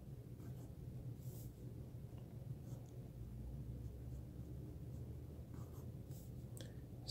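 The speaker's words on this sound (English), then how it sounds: "we are back now for the writing sample" A Wing Sung 601 piston-filler fountain pen with an extra fine nib scratching softly across paper, faint continuous writing strokes over a low room rumble, with a few light taps.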